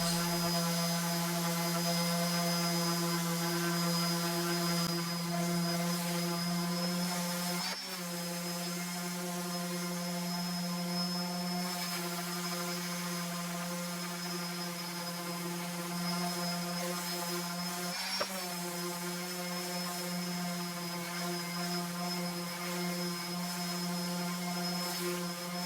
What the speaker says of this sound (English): A little sanding on each piece just to knock down any rough spots.